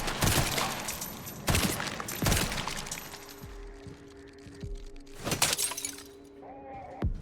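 Machine gun fire in the video game Resident Evil Requiem, several loud sharp bursts with shattering impacts, separated by quieter gaps with game tones and a voice speaking.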